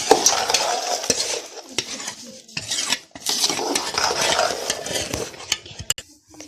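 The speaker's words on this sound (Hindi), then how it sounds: "अब इसको मिक्स करेंगे।" Chickpeas for chana chaat are stirred and tossed with a spoon, giving a busy run of scraping, clinking strokes, close and moderately loud, with brief pauses and no talking.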